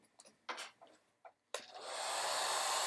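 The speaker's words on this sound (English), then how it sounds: "let's just put a little dryer to it" A hair dryer switches on with a sudden burst and then blows a steady, loud rushing whoosh over watercolor paint on canvas, preceded by a few quiet handling and rubbing noises.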